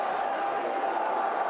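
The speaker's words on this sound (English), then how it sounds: "Oh, the crowd, the India fans are responding in kind." India fans in the crowd at Lord's during an England v India Test cricket match cheer in a steady, broad roar that stays even throughout the short moment.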